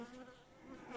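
Honeybees drone at a hive in spring during an evening check at rapeseed bloom, a soft steady buzz with faint harmonic hum, low in level and free of speech.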